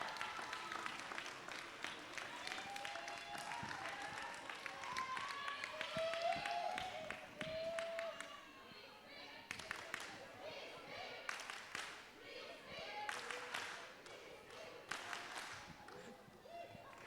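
Roller derby spectators applaud at a bout as the teams set off: a steady wash of clapping and crowd noise, fairly distant and soft, with an announcer's voice heard over it at times.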